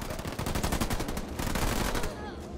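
Rapid gunfire from units battling in the real-time strategy video game Halo Wars 2, a dense continuous clatter of machine-gun bursts and shots that stays loud throughout with no talk.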